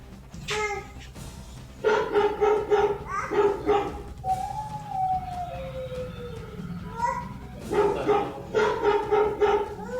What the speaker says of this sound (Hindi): एलेक्सा कुत्ते की आवाज़ निकालो।